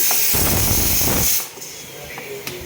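Onion hisses in hot oil with a loud, close, broadband sizzle that drops abruptly to a quieter steady fizz about halfway through, with a few faint clicks near the end.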